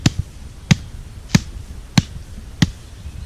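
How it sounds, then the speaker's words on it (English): Heavy thumps land at a steady pace, about one every two-thirds of a second, each a dull low impact close by, with no talking. "We tucked it in a little more and pounding on it. You know, again, you can hear that good thump."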